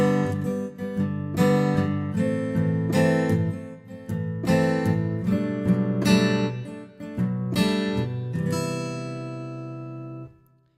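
Virtual steel-string acoustic guitar from the Evolution Acoustic Guitar Steel Strings instrument, strummed chords triggered with strum keys: a steady series of bright strums with shifting chords, ending on a final chord that rings out alone.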